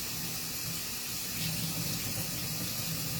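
A kitchen tap runs steadily as purple fruit is rinsed under it, a soft, constant splashing hiss at moderate level with no voices over it.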